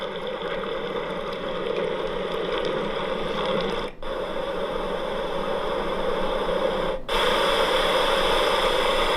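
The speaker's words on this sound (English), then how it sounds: "it comes with 12 different sounds and white noise" Steady, hissing white noise from an iHome Zenergy aromatherapy sound therapy clock plays continuously and evenly, broken by two very brief dropouts where it cuts and resumes.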